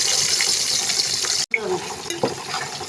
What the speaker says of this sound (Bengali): এরপর পেঁয়াজ ভেজে নেব।